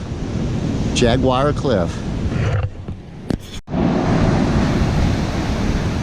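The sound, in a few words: ocean waves breaking on the beach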